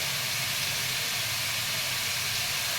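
Spices added to hot oil with cut potatoes sizzle in a dense, steady hiss that stays even and fairly close throughout, with no talking.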